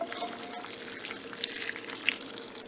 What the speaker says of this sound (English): you're going to take the soup and you're going to pour it all into your bowl